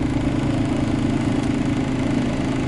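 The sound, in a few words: car engine idling, steady RPM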